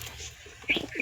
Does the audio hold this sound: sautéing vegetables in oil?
no